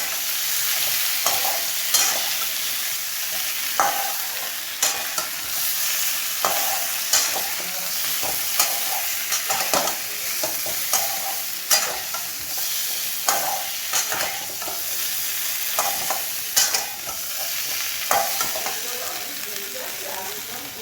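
Potatoes with ginger paste and a splash of water are sautéed in a pan for a vegetarian aloo dum, giving a steady sizzle under repeated, close scraping strokes of a spoon at an uneven rhythm.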